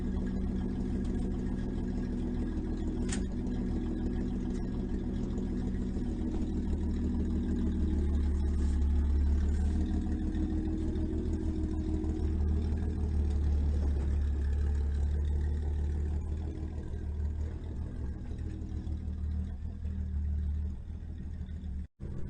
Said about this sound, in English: Now I think he's gonna attempt to drive away